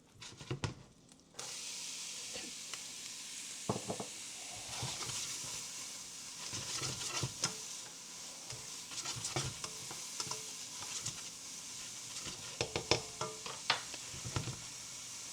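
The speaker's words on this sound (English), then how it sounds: "So I've got a couple tablespoons of butter here that I'm going to toss in there. And we'll get these onions going." Onions sizzle in butter and sausage fat, a constant close frying hiss broken by repeated spoon scrapes and stirring clatter, with no talking.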